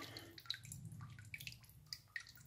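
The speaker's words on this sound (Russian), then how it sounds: "Вот сейчас сливаю воду." Water draining out of a bathroom towel warmer during replacement of a leaking Mayevsky air-release valve, a faint, steady watery trickle with scattered drips and gurgles close by, no talking.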